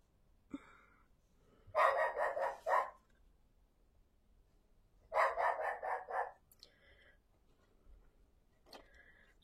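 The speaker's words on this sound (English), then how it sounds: "I might need to pause and tell my wee dog to be quiet." A small dog barks in two sharp, rapid bursts indoors, each a string of quick yips, followed by a few fainter single barks.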